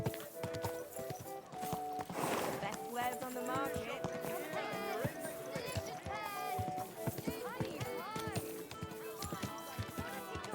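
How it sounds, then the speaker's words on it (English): Horse hooves clip-clop in the medieval video game Kingdom Come Deliverance 2, a steady rhythm of footfalls running beneath continuous talk, music and game ambience. "Easy, good horse."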